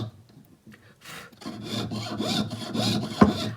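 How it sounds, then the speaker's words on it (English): A hand saw rasps through sheet metal in steady back-and-forth strokes, close and fairly loud, with a sharp knock near the end. "I am sawing on the inside of the line."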